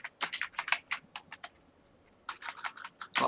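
Rapid keystrokes on a computer keyboard come in two bursts of clicky typing with a short pause between them, close and clear, with no voice.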